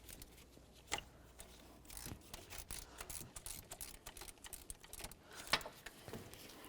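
A ratchet wrench loosens a water pump bolt on a 2003-08 Toyota Matrix, giving faint, quick clicking runs with a few sharper ticks over quiet background.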